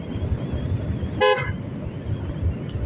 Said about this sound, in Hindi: हॉर्न भी इस वजह से मैंने ये लगवाया है क्योंकि